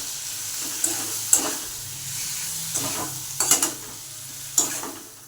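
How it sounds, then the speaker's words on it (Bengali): Spices with salt and turmeric being stir-fried in a pan for fish curry: a steady sizzle, with a spatula scraping and clinking against the metal in several distinct strokes, close up and without speech. "এখন শুধু মশলা দিয়ে কষাবো"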